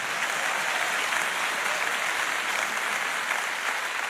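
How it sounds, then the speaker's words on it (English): A church congregation applauds in a continuous, even burst of many hands clapping, filling the room steadily with no talk over it. "Give them a little round of applause."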